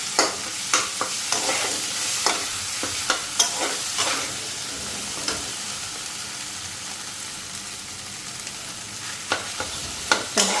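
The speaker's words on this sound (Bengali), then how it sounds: "ভালো করে লাইরা নিই" A spoon scrapes and stirs through food frying in a hot pan on a home stove, with a constant loud sizzle and sharp, irregular clinks of the utensil against the pan, close up and without talking.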